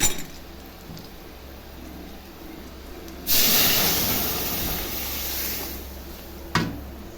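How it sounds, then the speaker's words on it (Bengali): Cooked dal poured into a pan of hot spice tempering with cumin and onion, bursting into a loud, sudden hiss that holds for a few seconds and slowly fades, after quiet background noise, followed by a short clatter. "এখন ডালটা সম্বারে দিয়ে দিচ্ছি"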